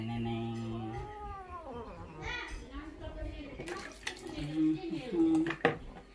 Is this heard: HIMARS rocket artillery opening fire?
no